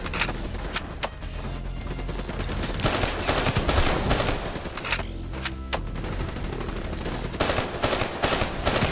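Dense automatic gunfire and rapid bursts from the video game Call of Duty Black Ops 3 roar continuously for the whole stretch, with heavy low-end thumps and a few sharper cracks standing out at loud volume, no voices heard.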